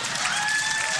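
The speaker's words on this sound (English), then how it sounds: "You hear them applauding." A short burst of crowd applause at a live podcast show, a continuous wash of many hands clapping at fairly close range.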